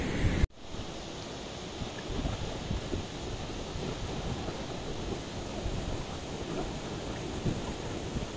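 A steady, broad rushing of flowing water, like a river, continuous and fairly loud after a sharp knock at the start, with no voices, at Lake Saiful Muluk in Pakistan.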